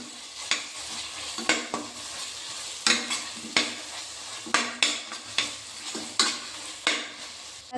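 Tomatoes and curd sautéing in a pan for mushroom biryani, a continuous sizzle with regular scraping strokes of a ladle against the pan roughly every half second, close and clear.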